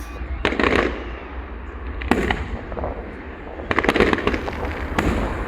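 Fireworks at a big Denbigh versus Rhyl seaside display burst in loud clustered volleys of cracks and booms, with rolling rumble between the bangs and no voices.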